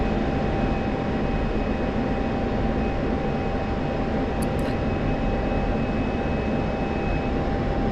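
A simulated F-16 fighter jet engine throttling up in the DCS combat flight game, heard as a steady, dense, loud roar that holds evenly throughout with no voices.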